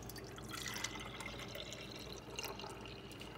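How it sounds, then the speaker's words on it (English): Buttermilk from homemade butter trickles faintly and steadily into a separate jar, a soft continuous liquid pour with small drips, alone and quiet. "So here I'm going to just slowly pour my buttermilk into a separate"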